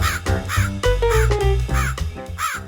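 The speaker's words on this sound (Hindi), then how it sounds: "उसके पीछे कालू कौवा भी घर से निकला।" A crow caws loudly and close, in a steady series of about six harsh calls, each one distinct and prominent.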